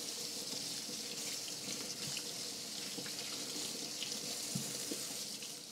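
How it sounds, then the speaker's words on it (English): Fresh rhubarb stalks are rinsed under a running kitchen tap, a steady close hiss of flowing water with small splashes and gurgles throughout. "we'll give these a nice rinse underwater"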